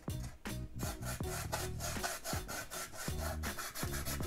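Rubbing paint off a custom rolling tray to reveal silver underneath, a steady series of quick scraping rub strokes back and forth, close and fairly quiet, with no voices.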